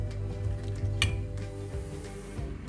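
Oil and batter go into a hot kuzhi paniyaram pan, giving a soft, close sizzle with light clinks of a small ladle against the metal and one sharp click partway through. No one speaks.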